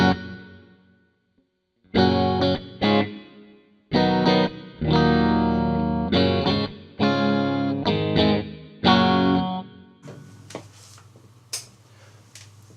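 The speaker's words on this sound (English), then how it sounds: "This is the reverb." Electric guitar played through a MOOER Black Truck multieffects pedal board with reverb, loud strummed chords in short bursts separated by pauses, each ringing out with a washy tail before fading to a quiet noisy decay at the end.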